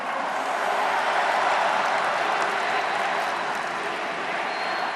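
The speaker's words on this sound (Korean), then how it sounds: "이재명 동지에게도 뜨거운 박수 보내주십시오" An audience at a Democratic Party presidential candidate selection convention applauds, a dense, steady wash of clapping from a large crowd, loud and continuous throughout.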